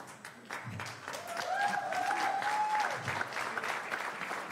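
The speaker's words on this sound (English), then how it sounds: "I think we must give them, as Prof. Makhanu would say," Audience applause at an agriculture and environmental science postdoctoral symposium, a thick burst of clapping that swells and holds, with a whistle-like tone and a voice briefly heard over it.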